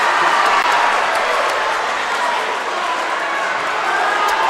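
Crowd at a high school wrestling dual championship cheering and roaring after a takedown, a dense, steady wall of noise with scattered shouts, loud and sustained throughout.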